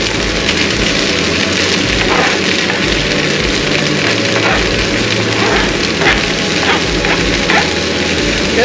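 Finely chopped onion hits a pan of sausage and sizzles loudly and steadily, a dense frying hiss that holds throughout.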